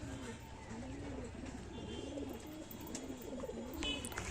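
Madras pigeons cooing nearby, a run of soft rolling coos repeating steadily over low background noise, with a few faint higher chirps.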